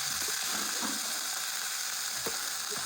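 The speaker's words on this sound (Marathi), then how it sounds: "मिरची हळद जिरं टाकून फोडणी दिलेली आहे" Cumin, turmeric and chilli sizzle in hot oil as a tempering, a steady close crackle and hiss with a few soft stirring knocks and no talk.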